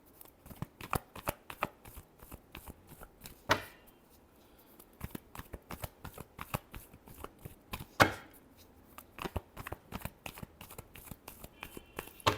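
Tarot cards being shuffled by hand, a quiet close series of crisp riffling snaps and taps in irregular bursts, with two sharper louder slaps along the way.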